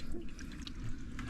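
Water fills a freshly excavated hole at a natural spring, making a steady, close rushing trickle that runs unbroken throughout.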